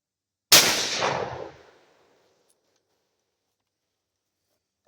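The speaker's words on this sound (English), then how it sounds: "Now, I'm gonna shoot the one on the far left with this one, and then we'll judge the pattern on it." A single loud gunshot from a shotgun fired at a turkey-shoot pattern target outdoors, a sharp blast followed by a fading rumble of echo lasting over a second, then silence.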